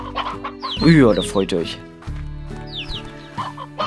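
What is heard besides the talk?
chickens clucking in the video game Slime Rancher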